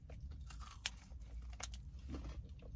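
A Barebells chocolate dough protein bar gets bitten and crunched up close, with a few sharp crisp snaps among steady chewing and no talking.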